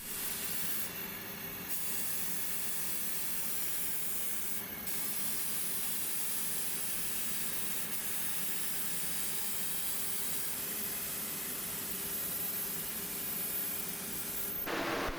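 Spray gun applying gloss finish to a masked-off headless five-string bass guitar body, a steady, loud hiss of atomised lacquer running continuously, with brief pauses at the start and end.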